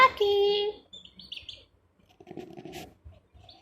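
A pet parrot playing at a mirror gives a loud, bright whistled chirp followed by a few softer, scattered squeaks and chatter, close by and heard alone.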